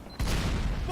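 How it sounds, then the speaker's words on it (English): An explosion in the video game Team Fortress 2 bursts suddenly and stays as a broad, rumbling blast that fills the moment at moderate loudness. "I used my bonk to avoid the damage from that explosion"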